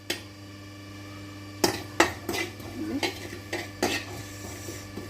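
Cumin and flax seeds roast in a pan, faint sizzling under a steady hum, punctuated by several sharp metal spoon scrapes and clinks against the pan.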